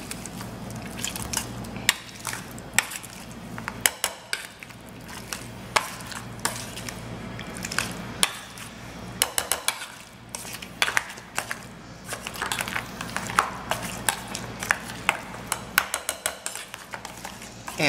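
Potatoes being mashed by hand with salt and pepper into mash: steady, close squishing and crushing with frequent sharp clicks and clinks of the masher against the pot, with no talking.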